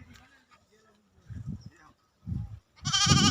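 Goats and sheep on a farm plot give three short bleating cries that grow louder toward the end, against a quiet outdoor background.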